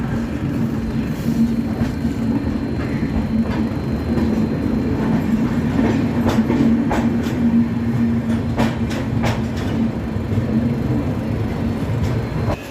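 Passenger train arriving at New Delhi, a steady interior rumble of wheels on rails with a constant hum and occasional faint clicks over joints, continuous throughout without talk.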